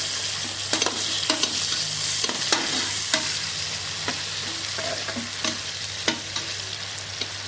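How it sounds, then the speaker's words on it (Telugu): Sliced onions and green chillies fry in hot oil in a pan for a chicken dish, giving a steady close sizzle broken by scraping stirs from a spoon. "ఇప్పుడు ఈ ఉల్లిపాయలు పచ్చిమిరపకాయలు దీంట్లో వేసుకొని బాగా మనం ఎర్రగా అయ్యేదాకా వేసుకోవాలి"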